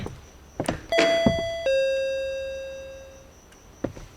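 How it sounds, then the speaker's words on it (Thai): Doorbell in a Japanese horror video game (Akai Onna) rings in a two-tone chime, a bright ding followed by a long decaying tone, with a faint thump after; no talking. "ใครมากดออดเวลานี้"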